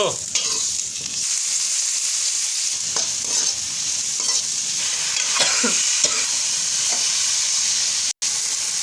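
Potatoes fry in a pan while browning, a loud, close, constant sizzle broken by scraping stirs of the spatula every second or so, with a brief dropout near the end and no talking.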